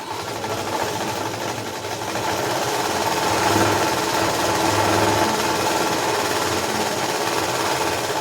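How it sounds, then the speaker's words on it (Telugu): A sewing machine stitching a blouse runs continuously with a steady, close, loud mechanical whir, its pace picking up slightly partway through, alone with no talking. "మనం కుట్టు గట్టిగా వేసుకోవాలి."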